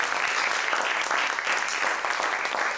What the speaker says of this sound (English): let's give these lovely people a round of applause